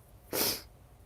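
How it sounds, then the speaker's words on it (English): A single loud, sharp sneeze burst from a woman, close and alone, lasting about a third of a second against a quiet room. "I'm going to sneeze again"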